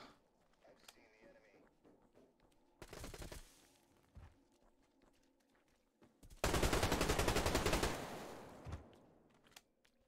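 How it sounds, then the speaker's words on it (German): Automatic-weapon gunfire in the video game Survarium during a PvP match: a short burst, then a longer sustained loud burst, with quieter background noise and occasional faint sounds between them. "Der hat aber auf mich direkt schon geschossen."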